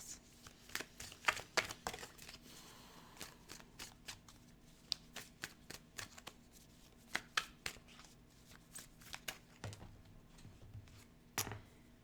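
Tarot cards are shuffled by hand in a quiet room, giving irregular bursts of crisp riffling and soft slaps and taps, near and fairly faint, with no speech.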